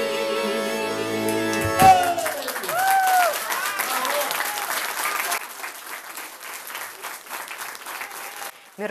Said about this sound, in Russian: Артистам горячо аплодировала публика.